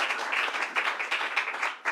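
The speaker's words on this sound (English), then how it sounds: "So let's give another round of applause to Angela Terry, the owner here." An audience at a restaurant event with the New York governor claps in applause, a dense steady patter of many hands lasting about two seconds.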